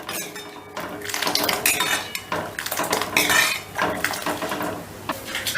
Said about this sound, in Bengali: এবার সমস্তটা একটু হাতা দিয়ে ভালো করে ঘেটে মিশিয়ে দিচ্ছি